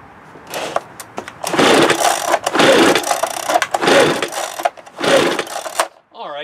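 An Echo PB-265L leaf blower engine at full throttle is cranked over and over without starting, giving about five close, loud bursts of rough mechanical whirring separated by brief pauses.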